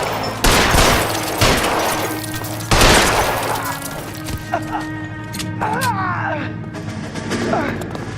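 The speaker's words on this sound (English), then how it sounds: "Throw out the guns!" Gunfire in the video game LA Noire, a few loud close gunshots early on followed by shattering debris and scattered softer noises, with no clear talk.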